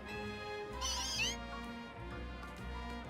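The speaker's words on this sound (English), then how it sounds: "Look at all the different meowths." Meowth Pokémon meow in the Pokémon Legends: Z-A video game, with one bright, wavering cat cry rising over steady background game music and a few fainter mews after it.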